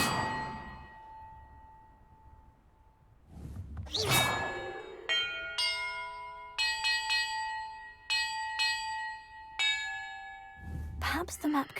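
Bells ring in the Hogwarts Legacy video game, a series of clear metallic chimes struck one after another at uneven intervals, with whooshing interface sounds in between.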